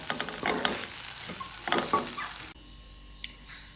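Water spinach and egg being stir-fried in a pan, a continuous sizzle with scraping stirs rising and falling, close by, then cutting off to near quiet.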